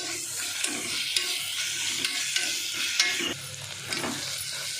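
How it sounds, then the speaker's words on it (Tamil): Onions sautéing in a pan for a tomato dish, giving a steady close sizzle and frying hiss with repeated scraping stirs throughout, and no voices. "ஆனியன் வதக்கட்டும், வெயிட் பண்ணலாம்"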